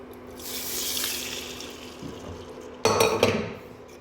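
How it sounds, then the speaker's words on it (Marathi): Water poured into a pan of roasted flour for a tomato beetroot soup, a soft rushing pour followed by a louder splashing burst near the end, close by with a metallic clink. "आता ह्याच्यामध्ये ना आपण पाणी टाकू"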